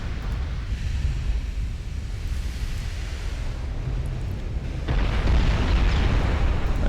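High-explosive shells from 16-inch naval guns burst in a video game battle, a dense continuous rumble of explosions that swells louder toward the end, with no voices.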